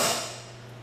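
One sharp metallic strike of a hammer driving a center punch into a 1st-generation Mazda Miata's metal to start a drill hole, ringing briefly and fading over a steady low hum.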